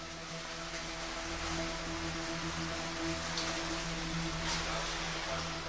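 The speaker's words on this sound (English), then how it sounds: "There's water falling at 100 or even 200 liters per second." Water falling at 100 to 200 liters per second inside a river cave, a loud, unbroken roaring rush with a low rumble, steady from start to finish.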